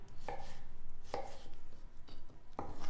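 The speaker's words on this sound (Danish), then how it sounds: "Så vi skærer lige agurken til her, så vi får nogle ensartede små firkanter." A knife cutting cucumber into small even cubes on a board, three crisp, evenly spaced chops close up with quiet gaps between.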